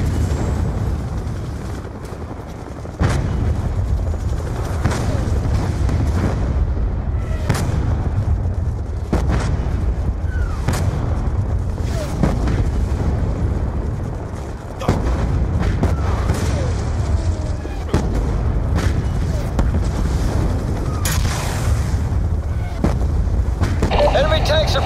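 Tank cannon fire in Call of Duty Black Ops II as enemy tanks shell a base. Heavy booms land one after another over a low battle rumble, with voices calling out between the blasts.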